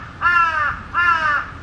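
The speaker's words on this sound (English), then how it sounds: "The birds are crowing." Crows in a Tokyo park give two loud, harsh caws in quick succession, close and clear against a faint background hum.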